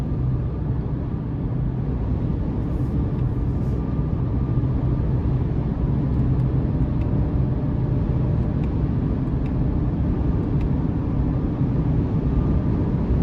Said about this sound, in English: ride quality is pretty excellent. Just driving down the road here.